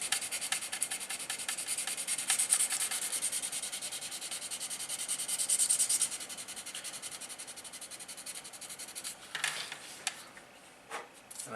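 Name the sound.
sanding filled seams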